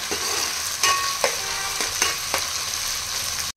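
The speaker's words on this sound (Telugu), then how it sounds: "ఈ అల్లం పచ్చి వాసన పోయేంత వరకు ఫ్రై చేసుకోవాలి." Ginger sizzling in hot oil in a pan, cooked for a chicken cashew masala curry: a continuous close crackle with several sharp stirring scrapes at a steady pace, cutting off abruptly at the end.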